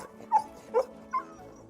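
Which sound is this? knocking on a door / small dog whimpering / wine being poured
small dog whimpering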